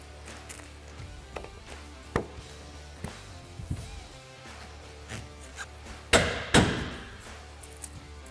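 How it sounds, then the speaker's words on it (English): A bolt seal is tapped into a poly windshield on a Can-Am Defender, heard as a series of sparse, light knocks and thuds with two louder, sharper impacts near the end against a quiet background. "I had to just give it a nice tap and it pops right through"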